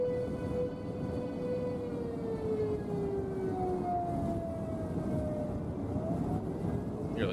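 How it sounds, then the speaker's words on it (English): Tornado sirens wail steadily during a tornado warning in the Texas Panhandle, their long tones gliding slowly up and down in pitch over a constant rumble of wind and traffic, distant and sustained for the whole stretch. "hear the tornado sirens going off too."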